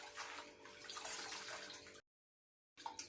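Running water splashes and gurgles close by as puliccha keerai (sorrel leaves) are rinsed, then cuts out briefly before the water noise resumes.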